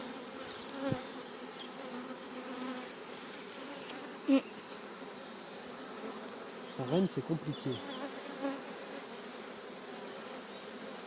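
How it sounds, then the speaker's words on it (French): Honeybees buzz steadily around an open hive in an apiary in a low continuous drone, with a few brief knocks and a short spoken phrase. "C'est la première fois que tu as autant d'abeilles autour de toi"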